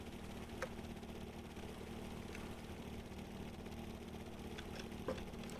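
Helicopter engines in the video game Stormworks idle at low power in an Arctic setting, a steady, muffled drone with a faint continuous hum, heard alone with a couple of soft clicks.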